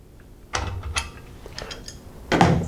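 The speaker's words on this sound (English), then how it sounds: "Use your crescent wrench to tighten it down." A crescent wrench tightens a steel braided line onto an air compressor tank fitting, making a few scattered metallic clicks and scraping turns, close and fairly quiet, with a louder clank near the end.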